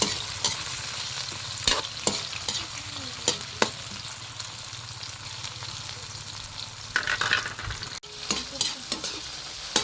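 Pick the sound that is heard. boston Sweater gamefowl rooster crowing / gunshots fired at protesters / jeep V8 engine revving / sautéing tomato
sautéing tomato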